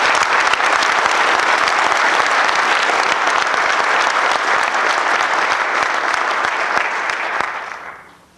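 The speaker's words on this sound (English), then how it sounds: "Please give them a big round of applause." At a 1991 graduation ceremony, a large audience applauds the instructors, including several sergeants, with loud, sustained clapping that holds steady before tapering off at the end.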